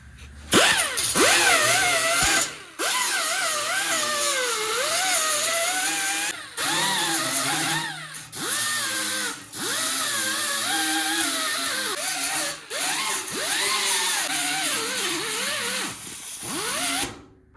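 A power grinder whines loudly against metal in long sustained bursts, pitch rising and dipping as it bites, with brief pauses between passes, grinding spots on a 1979 Plymouth Volare wagon for welding.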